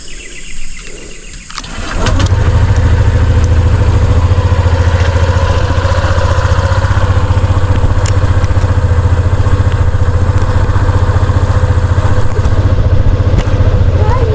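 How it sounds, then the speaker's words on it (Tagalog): A motorcycle engine starts and then idles steadily while warming up, a loud, constant close-range rumble that runs alone after a brief stretch of quieter sound at the start. "Painitin muna natin yung motor."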